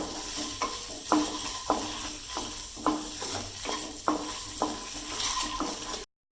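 Egg curry fries in a pan over a low flame while a spoon stirs in regular scraping strokes, roughly two per second, above a constant close sizzle.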